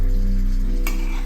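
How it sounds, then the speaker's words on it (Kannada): Chicken pieces with salt and turmeric fry in a pan, giving a steady close sizzle throughout, with a brief scraping stir near the end and no voices. "ನೀರೆಲ್ಲ ಹೋಗೋವರೆಗೆ ಚೆನ್ನಾಗಿ ಹುರಿಬೇಕು"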